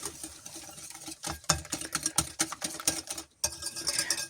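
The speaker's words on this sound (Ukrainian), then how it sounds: "Так, тоді сюди додаємо цукор і теж перемішуємо." Rapid, steady scraping and tapping of a whisk against a bowl while stirring sugar into cake batter, a busy rhythmic stirring that pauses briefly before resuming, close and fairly loud.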